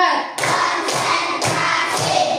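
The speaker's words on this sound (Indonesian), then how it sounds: "tepuk 1, tepuk 2, tepuk 3, tepuk 4," Four loud, evenly spaced hand claps in a classroom, each a sharp broadband burst with a brief ring after, close and alone with no talking.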